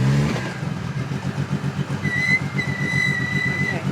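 Street-legal turbocharged and supercharged Lancia Delta S4 Group B rally car pulling away, a loud, pulsing engine note that rises from a low throb, with a thin whine appearing in the second half.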